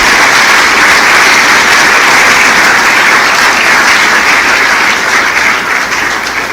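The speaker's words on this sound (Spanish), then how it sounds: "Denle un aplauso a Jesús." A church congregation applauds loudly and steadily during a sermon, dense clapping filling the whole stretch without pause.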